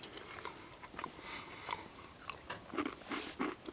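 Someone bites into a baked cookie outdoors at a snowy winter camp, then chews in a run of close, crisp crunches, with quiet breathy sounds between bites.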